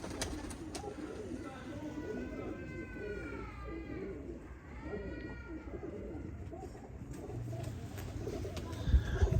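Soft, repeated cooing of Sialkoti pigeons close by, rising and falling in gentle phrases over a low background murmur.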